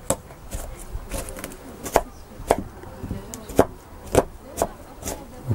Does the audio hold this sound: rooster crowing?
no